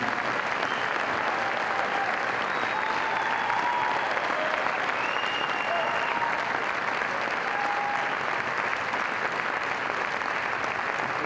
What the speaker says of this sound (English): If you give a big round of applause, please.